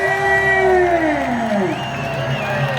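A large festival crowd at an outdoor Tartu concert cheers and whoops on Restoration of Independence Day, loud sustained voices with rising and falling shouts and applause underneath.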